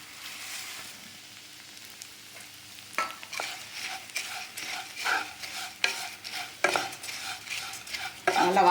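Flattened rice (aval) roasting in a pan, with repeated scraping stirs and a light dry sizzle close up, strokes coming in an uneven rhythm that grows busier toward the end.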